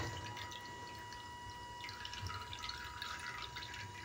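Water drains from cooked lentils for puran: faint trickles and drips in a quiet kitchen, with a light spattering pour growing a little busier in the second half over a low steady hum.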